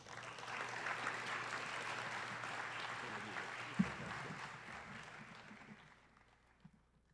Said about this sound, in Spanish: el doctor Marcial Solís, a quien recibimos con ese caluroso aplauso.